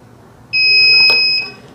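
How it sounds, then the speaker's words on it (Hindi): A single sustained electronic beep, close and loud, from a UTL Gamma Plus inverter entering its settings mode, lasting about a second over a quiet background. "बीप की आवाज़ आ चुकी है और ये इसकी सेटिंग शुरू हो गई है"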